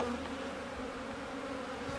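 Honeybees swarm over a brood frame of capped brood and larvae during a hive split. Their dense, steady buzzing hum fills the whole stretch at close range, with no voices.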